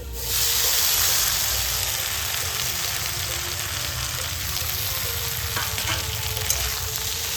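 Chopped raw onions stir-frying in a pan, a steady loud sizzle and hiss running throughout with occasional soft scrapes of stirring, no voices.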